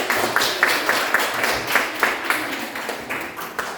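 Small classroom group claps in a loose, uneven burst, individual hand claps audible and fairly close, with faint voices mixed in.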